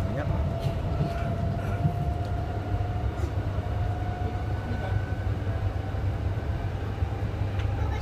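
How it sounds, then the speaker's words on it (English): A Queensland Rail train on the Cleveland Line pulling out of Banyo Station, heard from onboard as a steady low rumble and hum with a faint whine, continuous and even. "Here we are departing Banyo Station now."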